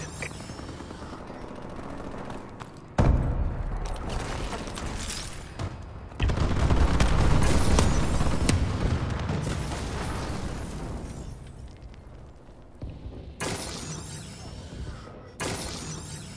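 Explosions from a bombing run in Call of Duty: Advanced Warfare crash and rumble in a series of heavy, booming blasts with shattering debris and rattling gunfire, loud bursts separated by short quieter gaps.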